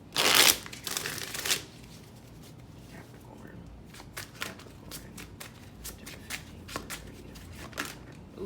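A tarot deck being shuffled up close: a loud burst of riffling at the start, then a run of lighter, irregular card flicks and taps continuing to the end, with no talking.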